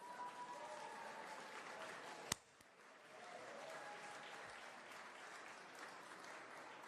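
Audience applause at a Golden Joysticks Awards show, a steady wash of clapping from a large crowd that carries on throughout, broken by one sharp loud crack partway in.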